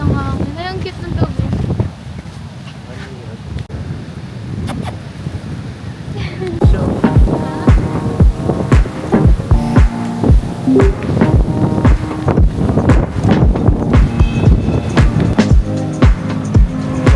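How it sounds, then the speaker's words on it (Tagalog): Strong wind on a beach in Kuta, Bali, buffeting the microphone in heavy, irregular gusts and rumbles, with people talking nearby under the roar. "Lakas ng hangin."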